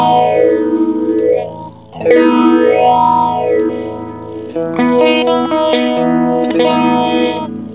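An electric guitar runs through a TC Electronic Plethora X5 multi-effects pedal set to phaser, sustained distorted chords sweeping slowly up and down in a rhythmic whooshing wave, then brighter struck chords, loud and alone.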